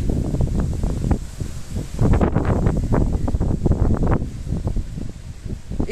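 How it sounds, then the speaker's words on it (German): Thunderstorm squall gusts roar and buffet the microphone in uneven bursts, loud and close, with no voices. "Ja, weil jetzt wird's windig. Sturmböen kommen."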